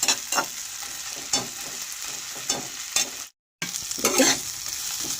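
Onions fry with ginger garlic paste in a pan, a steady close sizzle with rhythmic stirring scrapes and a brief cut to silence midway.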